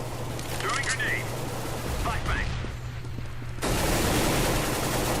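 Rapid gunfire crackles through a competitive CS:GO match on the Aztec map, dense bursts under a steady hum, with a sudden louder surge of shots near the end and no talk.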